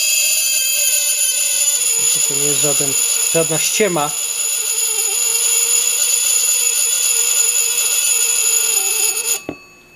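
A metal blade resting on dry ice squeals with sustained, piercing tones that waver in brief pulsing bursts, while a person speaks nearby.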